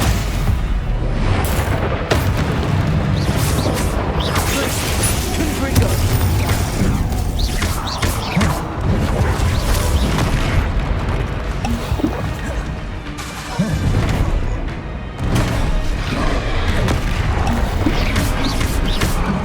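Spell casting and explosions in the video game Hogwarts Legacy, a dense continuous barrage of magical whooshes, booms and crashes, loud and layered throughout with a brief lull near the end.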